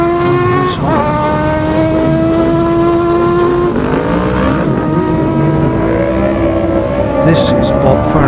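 A Suzuki superbike at the Classic TT road race roars past at full throttle, its engine note a steady high whine that sweeps and shifts, with a commentator talking over it throughout.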